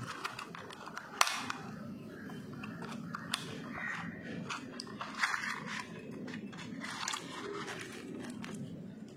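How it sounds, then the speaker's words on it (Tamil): A shiny 24-gram fishing lure with an internal rattle is shaken near the microphone, giving scattered clicky, crunchy rattles over a low background rumble. "ரேட்டல் சவுண்டோட சூப்பராக இருக்குது"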